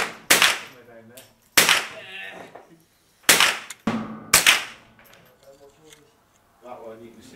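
Sharp, loud pistol shots from a long-barrelled Buckmark .22 with a red dot sight crack out one at a time, five in all at uneven intervals, with voices heard between them.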